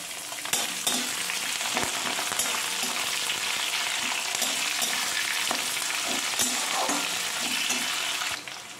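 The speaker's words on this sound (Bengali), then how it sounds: "পেঁয়াজগুলো হালকা করে ভেজে নেব।" Chopped onions with curry leaves and salt frying in a pan for masala dosa, a steady close sizzle with occasional stirring clicks and scrapes throughout, no voices.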